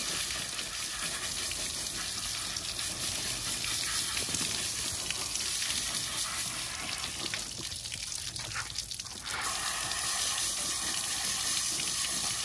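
Running water gushes steadily and close while an XL American Bully is washed, a continuous spray that briefly shifts in tone midway before resuming.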